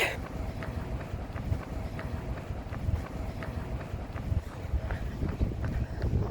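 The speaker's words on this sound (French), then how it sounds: "il y a un peu de vent parce qu'on est au bord de l'eau" Wind by the water buffets the microphone in uneven gusts, a low rumbling rush with faint ambient noise beneath and no clear voices.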